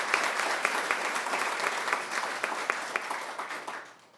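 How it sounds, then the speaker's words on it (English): Steady applause from a crowd at a village State of the Village event in Woodridge, dense clapping with a few sharper claps standing out, fading slightly at the very end. "let's give them a round of applause"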